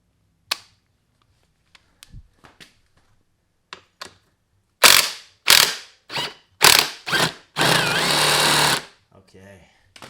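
Air impact gun spinning off a 12mm bolt on a Honda CR125 two-stroke motor: several sharp, loud hammering bursts in a row, ending in one longer sustained rattle, with scattered small tool clicks between.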